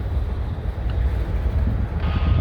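Freight locomotive throttling up near Canal Ridge Road, a deep diesel roar that holds steady and swells slightly near the end, heavy low-end rumble with no voices.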